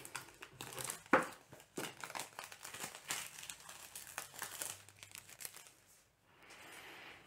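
Packaging of Naporon E10 wireless Bluetooth headphones being handled and opened, giving close, quiet crinkling and rustling of plastic and cardboard in irregular bursts.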